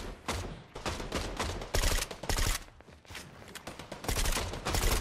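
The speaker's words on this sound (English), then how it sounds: "I'm like shooting at people and not doing any damage." Rapid bursts of SMG and rifle fire from a Fortnite match rattle through the whole stretch, dense overlapping volleys with short gaps, loud and close.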